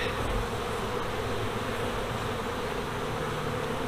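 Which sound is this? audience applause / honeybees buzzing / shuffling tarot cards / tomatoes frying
honeybees buzzing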